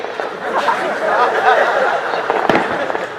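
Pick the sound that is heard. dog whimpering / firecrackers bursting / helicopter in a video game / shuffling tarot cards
firecrackers bursting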